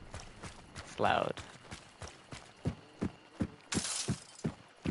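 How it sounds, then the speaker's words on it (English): Footsteps crunching over broken glass in the video game Hunt: Showdown, a steady series of close, sharp steps with two louder bursts of shattering noise. "Every time I walk over this broken glass, it makes sound, distinct sound."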